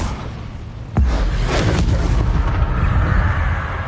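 Incendio fire spell cast in the Hogwarts Legacy video game: a sudden loud whooshing burst with a heavy low thump, followed by a sustained roaring, crackling rush of flame that fills the rest of the moment.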